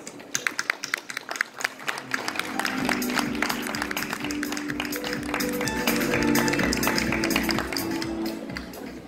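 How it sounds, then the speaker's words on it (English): Audience applause welcoming the CEO of Toda.network to the stage at a crypto conference; scattered close claps build into a fuller, steady round over music, with some crowd noise underneath. "please welcome him to the stage with a big round of applause"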